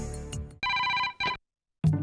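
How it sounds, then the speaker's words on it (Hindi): A telephone rings in bursts of bright electronic bell tones, two clear rings separated by short gaps, close and loud with no talk over them. "ए सोनू, तेरा फोन है"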